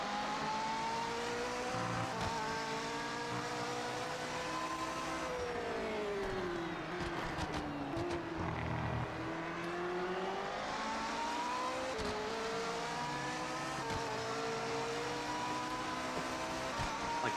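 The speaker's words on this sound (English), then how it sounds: "I hate that the sound outside the car is almost like an echo chamber." A race car engine in the Project Motor Racing video game, heard from outside the car, revs up and down through repeated gear changes, a loud, continuous, slightly echoey whine with rising and falling pitch.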